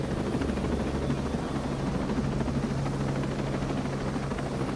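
Helicopter flying nearby, with a steady, loud rotor drone and low thrum that continues unbroken throughout, with no voices.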